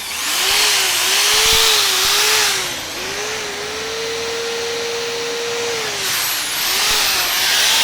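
Electric drill running on a portable power station alongside a hairdryer at full power, a loud steady whine and rushing air that hold continuously, with the motor pitch dipping and rising a few times.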